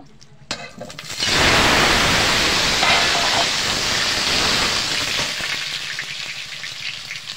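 Potatoes frying in a hot pan, a loud hissing sizzle that bursts up as they hit the oil and then holds steady, easing slightly toward the end, with no voices.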